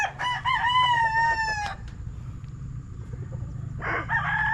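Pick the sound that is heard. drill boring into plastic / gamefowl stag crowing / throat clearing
gamefowl stag crowing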